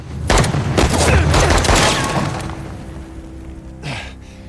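Several loud, close gunshots burst out in quick succession during a firefight in the video game Uncharted: The Lost Legacy, then cut off abruptly and leave a quieter background with a faint gasp.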